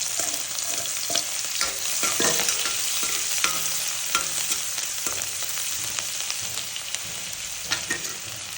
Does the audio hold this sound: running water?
no